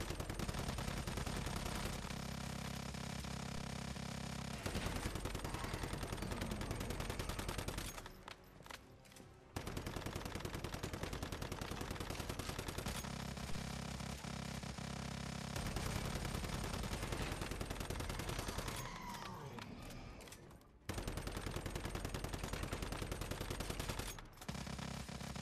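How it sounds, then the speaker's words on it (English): A Gatling gun in Once Human roars in long, dense bursts of rapid fire during a boss fight, loud and continuous, broken by a few short pauses before spinning back up. "I am dialed in just shooting this Gatling gun."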